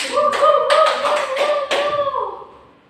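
A handful of students applaud in a classroom, several distinct claps over a sustained voice that fades out at the end.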